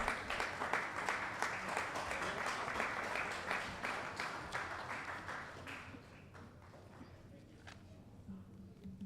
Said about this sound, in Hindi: तालियों की गड़गड़ाहट कम हो गई